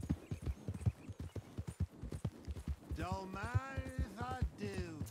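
Steady clip-clop of a horse's hooves in Red Dead Redemption 2, an even trotting rhythm that runs throughout, with a neigh or whinny rising toward the end and someone talking over it.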